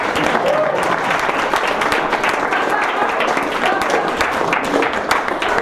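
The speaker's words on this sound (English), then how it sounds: "Another round of applause for Colton for being vulnerable" Dense, sustained applause from an audience at an improv comedy show, a loud continuous wash of many hands clapping with some crowd noise and a voice or two mixed in.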